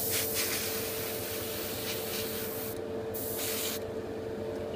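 A continuous hiss of an airbrush spraying paint onto a model kit frame, close and steady, briefly cutting out twice before resuming.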